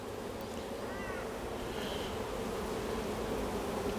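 Honey bees in an open hive make a soft, steady buzz up close, with a few individual bees whining past, and no voices.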